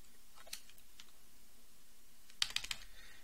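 A computer keyboard on a Linux machine is tapped quietly, a faint keystroke near the start and then a quick cluster of several keys, all at low level with no talk.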